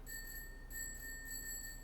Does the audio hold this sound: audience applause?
no